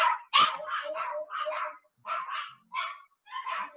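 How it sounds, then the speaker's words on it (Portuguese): A dog barks repeatedly and close by in a domestic setting, with about eight sharp, fairly loud barks arriving in quick bursts and short pauses between them, and no talk over them. "meu cachorro agora cismaram de latir aqui."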